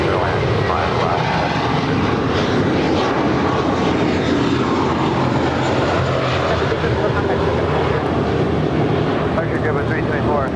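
An eight-year-old JetBlue Airways Airbus A321 jet departs Los Angeles International Airport bound for JFK, its engines a loud, continuous broadband roar throughout, with a voice faintly underneath.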